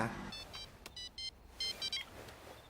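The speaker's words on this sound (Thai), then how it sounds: "จู่ๆ ก็มีโทรศัพท์เนี่ยดังขึ้นมา" Faint electronic phone ringing in short, repeated bursts of trilling beeps, paired groups with brief pauses between them.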